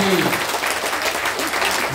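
A crowd at a political rally bursts into applause, dense continuous clapping close and loud throughout, with a voice faintly audible beneath.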